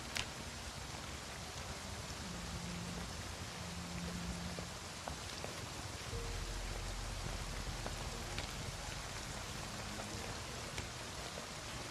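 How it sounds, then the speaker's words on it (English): Steady rain falls in the survival game Project Zomboid, a dense, even hiss with scattered droplet ticks that runs unbroken the whole time and nothing else on top. "I wish it wasn't fucking raining."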